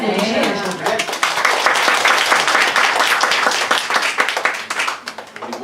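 Church congregation applauding at a Korean-Japanese bilingual service, a loud, dense burst of hand clapping that carries on steadily with some voices mixed in.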